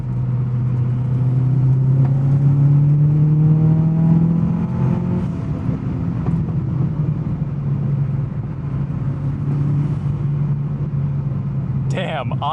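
A 1999 Mitsubishi Lancer Evolution VI engine drones steadily from inside the moving car, pitch rising then settling through the run, with people talking over it and a brief clatter at the end.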